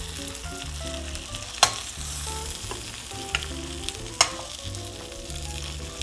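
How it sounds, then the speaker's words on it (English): Meat pieces go into a pan of butter beans and sizzle steadily, with a few sharp clinks and scrapes of a utensil and a background music bed. "we are going to take these out and put them right into the pan with our butter beans"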